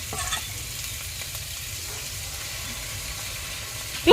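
Coconut water poured into hot spiced oil and masala while cooking a giant freshwater prawn curry, giving a soft, steady sizzle and hiss close by, with a brief clatter of stirring at the end.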